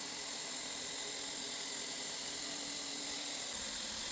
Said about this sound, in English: Now we're doing the main joint. takes a lot of work to do a good welding.